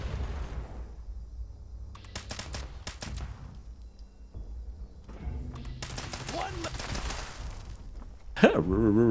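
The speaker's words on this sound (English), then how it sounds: "He's shooting at the robots at the other end there." Gunfire aimed at robots in the video game Fallout 76, rendered as clustered bursts of sharp shots in several volleys over a steady game backdrop, with a loud sudden burst near the end.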